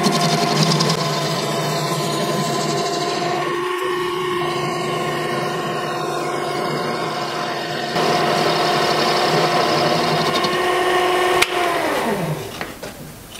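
Lathe machining the flywheel for a steampunk Stirling engine, a steady loud motor hum with a cutting whine held for about twelve seconds, then winding down at the end.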